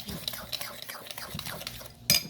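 A spoon beats an ice cream mixture in a bowl, making a run of quick, light scraping clinks at close range, with a brief louder clatter near the end and a soft voice murmuring underneath.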